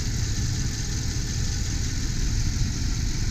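A 1993 Jeep Grand Cherokee Limited with the 5.2-liter V8 idles steadily nearby, a smooth, even engine rumble with no voices over it.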